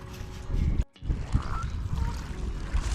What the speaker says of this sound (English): They're actually friendly geese here.